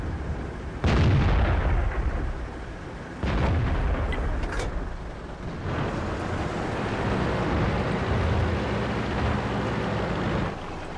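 Tank cannon shots boom in a tank battle game, a Centurion Action X firing with two or three heavy, loud blasts spaced several seconds apart over a constant rumbling engine background.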